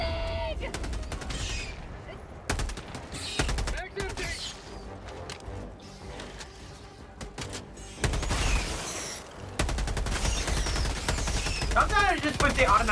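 Sentry gun firing in the video game Helldivers 2, loud rapid bursts of automatic gunfire with sharp cracks and booms, rising and falling in intensity, with a voice talking over the shooting.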